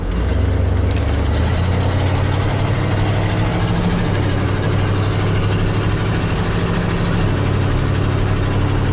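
A Ford F-series pickup truck's engine idles steadily while warming up on a busy Sunday street, a loud, continuous low rumble running unbroken throughout.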